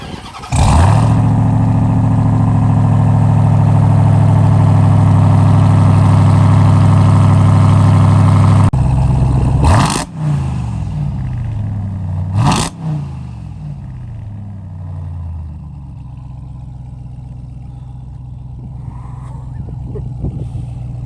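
A supercharged Ram 1500 TRX pickup truck's engine runs loud and close at a rough idle, then throws two sharp revs with blips before settling back to a lower, quieter idle.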